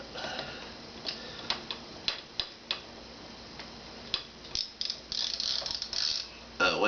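Socket ratchet tightening during reassembly of an H&R Pardner Protector shotgun, a series of close, crisp clicking pawl ticks in irregular short bursts, quickening into a dense rattling run near the end.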